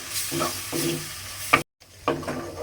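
Spice masala with ground black pepper sizzles while being sautéed and stirred in a pan, with repeated scraping strokes, a short break of silence, then more stirring close up.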